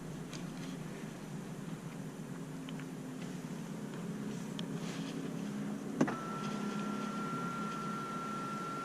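The electric panoramic sunroof shade motor in a 2021 Geely Okavango running inside the cabin: a faint, steady whirring hum that continues for several seconds, with a soft click partway through and a thin whine afterward.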